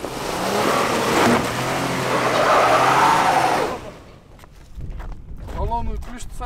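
A car engine revs hard and strains for several seconds while stuck in a frozen river in Kyrgyzstan, then drops off, leaving quieter rumbling and faint voices nearby.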